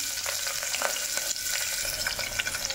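Chopped green chillies frying in hot oil with cinnamon for mutton curry, a continuous close sizzle broken by intermittent stirring scrapes and crackles.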